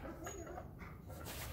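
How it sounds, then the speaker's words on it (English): A dog whines to be let in from outside a hunting hideout under construction, soft high whimpers coming and going behind a door, faint against background noise. "Don't mind the whining, my dog wants in here"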